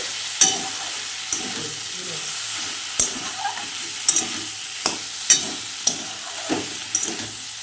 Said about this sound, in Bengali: নুন হলুদ সঙ্গে সবজিটা একটু ভাজা ভাজা হয়ে আসবে